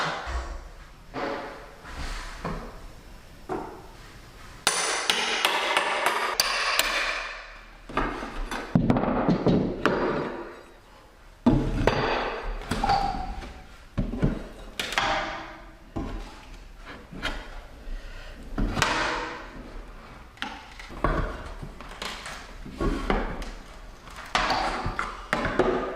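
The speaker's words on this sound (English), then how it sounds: "Another thing I have to do is take down this piece of trim." Wooden trim being pried and knocked loose from a wall, with a string of sharp cracks, taps and scraping knocks at irregular intervals, some loud and close, with brief quiet gaps between bursts.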